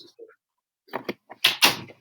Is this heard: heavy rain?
no